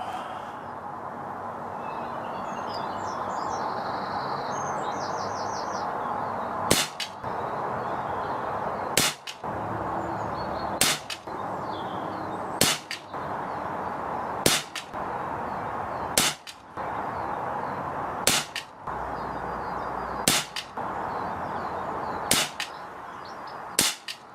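A Retay T20 air rifle fires pellets in a steady series of about nine sharp, loud cracks spaced roughly two seconds apart, each standing out clearly above a constant background hiss.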